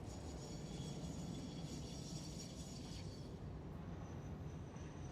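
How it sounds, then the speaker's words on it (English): A delivery train in the video game Satisfactory rolls past with a faint steady mechanical rumble and clattering, plus a high whining tone that fades partway through, heard distant and quiet with no talk. "Oh, is that the actual delivery train?"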